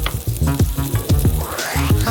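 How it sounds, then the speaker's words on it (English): Cubed bell peppers sizzle steadily in a frying pan, a loud, continuous crackle of frying with rhythmic bursts as the pieces are tossed and stirred, heard close and alone. "And send them into the frying pan."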